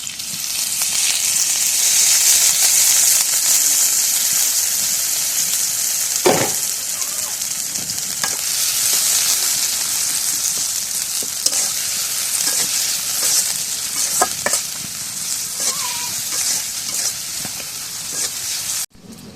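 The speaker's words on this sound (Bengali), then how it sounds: "জল দিয়ে দিই" Water hits a pan of frying spice paste, bursting into a loud, sustained sizzle and hiss that runs for nearly twenty seconds. Occasional stirring clatters sound close by, and faint voices can be heard underneath.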